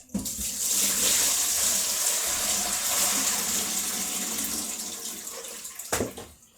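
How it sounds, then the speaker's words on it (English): Tap water pours steadily into a kitchen sink while raw chicken is washed with vinegar. The gushing flow runs continuously and close by, then stops with a brief clunk near the end. "I like to wash it with vinegar and water."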